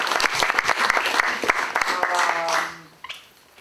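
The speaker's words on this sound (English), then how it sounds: "Please applause for Marieke." Audience applause at a jazz music conference, a dense burst of clapping that fades out after a few seconds, with a voice speaking briefly over the end.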